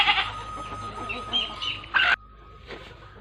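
Chickens cluck and call close by among a yard flock of grown hens, with one loud burst before a sudden drop to a quieter background.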